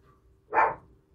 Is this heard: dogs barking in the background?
yes